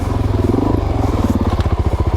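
Suzuki DRZ 400 dual sport motorcycle in first gear on Idaho single track, its engine thumping in a steady, loud, close rhythm with light clatter from the trail.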